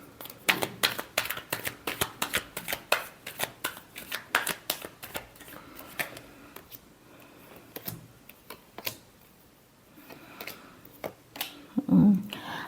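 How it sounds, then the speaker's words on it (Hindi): Tarot cards being shuffled for a weekly horoscope reading, giving a quick run of crisp riffling clicks and flutters that fade out partway through, near and fairly quiet, with no talking. "Last shuffle."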